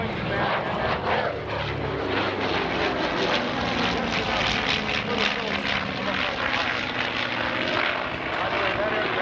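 A World War II-era twin-engine propeller airplane drones steadily overhead at an airshow, a loud continuous engine roar with a throbbing texture that holds for several seconds.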